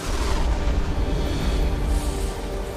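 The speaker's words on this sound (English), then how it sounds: "A tremendous bright flash and this huge explosion." A deep, sustained explosive rumble of rock blasting out of solid stone fills the whole span, loud and heavy in the low end with no clear separate blasts.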